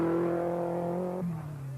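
A Group B rally car on a gravel stage at the 1983 Acropolis Rally drones loudly and close with a steady engine note, then the pitch drops sharply as the revs fall away.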